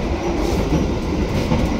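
Gaya Baru Malam Selatan passenger train rolling along the rails, heard close from on board as a loud, continuous rumble with a rhythmic wheel clatter.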